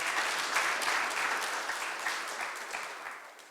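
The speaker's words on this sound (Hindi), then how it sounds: "क्यों नहीं उसके लिए ताली बजाए हम लोग" A Hindi-speaking Sunday church congregation breaks into sustained applause for their pastor, a dense, steady wash of many hands clapping that fills the room and slowly tapers over a few seconds, with no talking over it.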